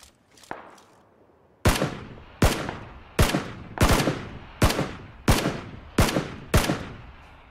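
Loud gunfire in the battle royale game PUBG: one faint early shot, then eight or so sharp single shots spaced evenly at a steady pace, each with a short decaying tail.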